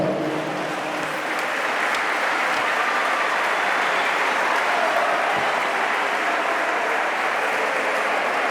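An audience at a handball club's team presentation in Benicarló applauds warmly, a dense, even wash of clapping that holds steady throughout.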